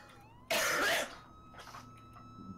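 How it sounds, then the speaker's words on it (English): One harsh cough bursts out loudly near the microphone during a game stream, followed by a fainter second cough and low room hum. "That was a cough"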